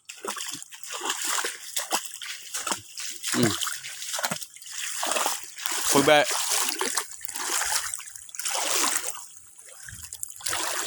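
Someone wades through shallow floodwater, making repeated close splashes and sloshes in a walking rhythm, with a brief spoken word among the splashes.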